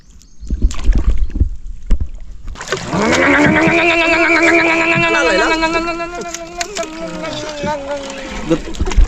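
A loud, steady boat engine drone with a strong tonal hum starts after a few seconds of scattered knocks and clatter, then runs unbroken to the end.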